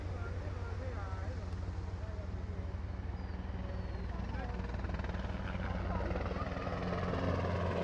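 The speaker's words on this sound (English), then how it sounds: "Helicopter just coming in, and so he's going to do a bit of a swing over the beach there." Loud, steady rotor thumping of a helicopter passing close overhead above a beach in Sydney, with wind and people talking underneath throughout.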